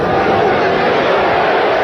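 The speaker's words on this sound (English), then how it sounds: "Crowd urging Rodman to throw up the shot." A packed basketball arena crowd at a 1997 NBA playoff game between the Bulls and Hawks roars steadily, urging a player to shoot, a loud dense mass of voices with no clear individual speech.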